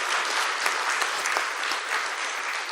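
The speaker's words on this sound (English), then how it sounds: "Please give her a round of applause." A conference audience at an opening ceremony gives a round of applause, steady dense clapping from many hands filling the room at moderate loudness throughout.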